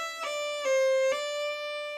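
An Irish fiddle plays a roll on a single bow, going from the third finger to the fourth and back down. It is a quick ornament of three grace-note flicks over one sustained tone, heard close and alone.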